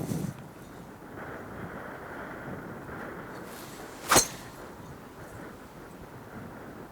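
Wind blowing across an open Irish golf course, a steady low rushing roar with microphone buffeting throughout, plus one sharp clack partway through.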